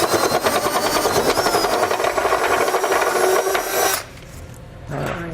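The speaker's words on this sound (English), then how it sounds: "So we're going to use a step bit." Power drill turning a step bit to enlarge a hole in the metal of a Curt trailer hitch receiver on a 2019 Subaru Ascent, a loud, harsh grinding whir that runs for about four seconds, stops abruptly, then briefly starts again more quietly.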